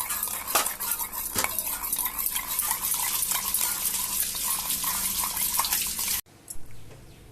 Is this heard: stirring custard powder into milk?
yes